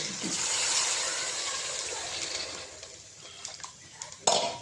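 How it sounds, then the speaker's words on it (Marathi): Heated water is poured into a pan of bombil (Bombay duck) rice. A broad, rushing gush starts loud and close and tapers off, followed by a few light clatters and a final metallic clank. "पूर्ण परतलं ना की त्यात हे आपण गरम केलेलं पाणी टाकायचं."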